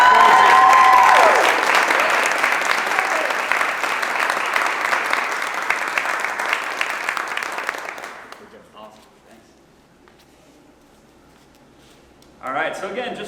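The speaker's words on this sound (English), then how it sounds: "One more round of applause for the..." A crowd at historic Hinchliffe Stadium for a women's tackle football event bursts into sustained applause, loud dense clapping that holds for several seconds and then tapers off into quiet before a voice resumes.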